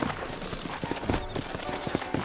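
Horse hooves clip-clop in Red Dead Redemption, set in the frontier town of New Austin, a steady rhythmic clatter of several horses on the move with faint background ambience.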